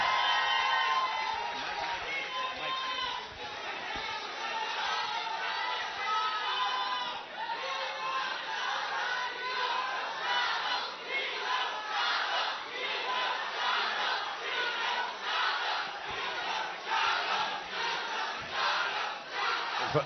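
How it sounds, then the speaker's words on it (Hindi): A large crowd at a Pathaan film success event roars, cheers and whoops continuously with what sounds like clapping mixed in, a dense, loud wall of voices throughout. "एक बार जोरदार ताली हो जाए पीछे तक गाइस, एक बार हाथ ऊपर करके कमान कमान कमान कमान"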